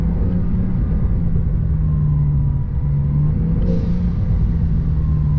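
A Brabus-tuned Porsche 911 Turbo fitted with an extra Brabus exhaust, heard from the cabin with a window lowered, as a steady, deep engine drone and rumble hold under road noise with no distinct revs.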